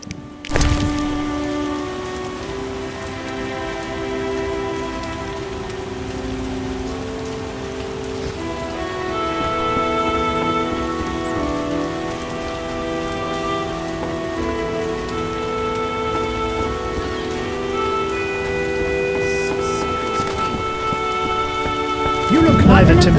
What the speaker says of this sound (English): Some serious rain.